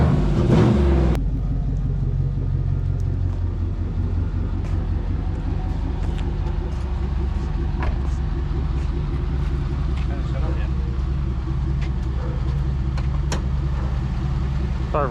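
A car's engine idles steadily after a jump start, a loud continuous low rumble running throughout, with people talking over it.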